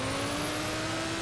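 Video-game truck drifting hard, a steady synthetic engine drone with a constant high whine and sustained tones, continuous and moderately loud throughout with no talk.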